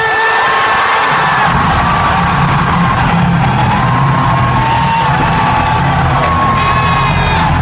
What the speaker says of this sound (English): The applause goes on and on and on.